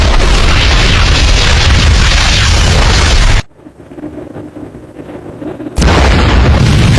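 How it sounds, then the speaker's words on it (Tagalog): A massive, roaring blast in the Hunter x Hunter anime fills the air with dense rumbling noise, cuts to near silence for a few seconds, then the heavy roar bursts back in. "At napakalakas nga na pagsabog ang naganap."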